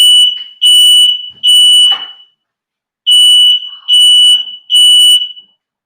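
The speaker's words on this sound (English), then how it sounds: "Oh, and there goes my timer." An oven timer beeping in a home kitchen, six loud, shrill electronic beeps in two groups of three with a short gap between the groups, heard alone with no talking.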